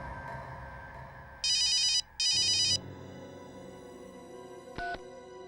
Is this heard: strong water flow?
no